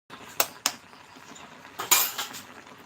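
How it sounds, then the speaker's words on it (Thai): A metal spoon being washed in a home kitchen while cooking a mixed vegetable stir-fry with minced pork: a few sharp clinks against dishes, then a louder cluster of clattering, close and without talk. "เดี๋ยวล้างช้อนก่อน"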